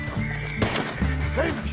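Horse neighing in Red Dead Redemption 2, a single whinny with a rising-and-falling pitch over a backdrop of game music and ambience, with a sharp hit partway through.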